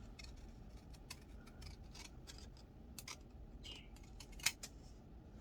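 Scissors snipping off small paper tabs at a craft table, a series of faint, crisp little cuts spaced irregularly over a quiet background.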